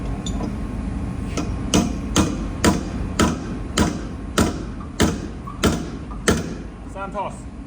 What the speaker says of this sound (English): I'm just going to hammer down any like high areas